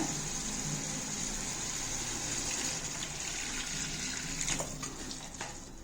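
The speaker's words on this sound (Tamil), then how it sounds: "இப்போ தேவையான அளவு தண்ணி விட்டுட்டு மூடி வச்சு வேக வைக்கலாங்க" Water is poured steadily into a cooking pot of mutton being prepared for dum biryani, a continuous close rushing gush with no voices.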